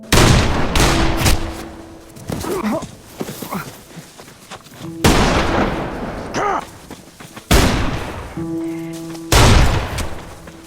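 Gunshots ring out in a tense film gunfight, loud sharp blasts arriving in separate bursts with short gaps between them, mixed with scuffling movement and background score.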